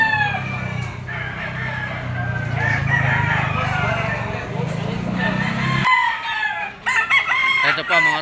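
Several gamecocks crow repeatedly at a busy fighting-rooster market in Lipa, Batangas, with overlapping cock-a-doodle-doos and clucks over steady crowd murmur and a low background rumble.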